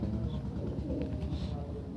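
A black Madras pigeon giving soft, low cooing at close range, mixed into a steady noisy background with some faint chirps.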